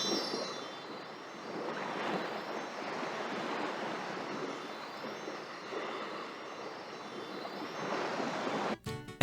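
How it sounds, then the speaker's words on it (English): Ocean waves wash on Gelato Beach in the video game Super Mario Sunshine, a soft, steady surf rolling in gentle swells with faint footsteps in sand, quiet and continuous. "Just the sound of the ocean waves and walking in the sand."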